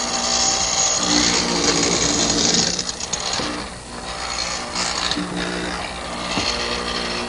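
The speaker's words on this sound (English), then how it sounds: "this is just a 1/2-inch square chisel with a drill bit in the center" A hollow chisel mortiser with a 1/2-inch square chisel around a drill bit grinds and rasps through wood in a continuous loud cut, with brief dips and renewed bites as the tool plunges again.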